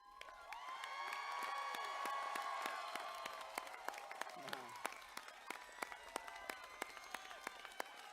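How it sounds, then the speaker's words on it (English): Audience applause fills a graduation commencement ceremony, swelling into steady, loud clapping with some cheering, then thinning into scattered individual claps near the end. "We should keep clapping for you."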